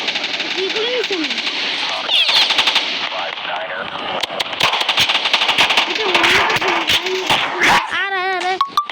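Rapid gunfire bursts from a mobile shooting video game crackle almost continuously, loud and close, with a voice talking over the shots throughout.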